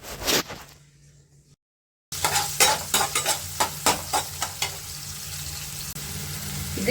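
Onion with mustard seeds, cumin and curry leaves stir-fried in hot oil for a sprouts dish, giving a steady close sizzle broken by a run of sharp, rhythmic spatula scrapes and stirs after a brief silent gap.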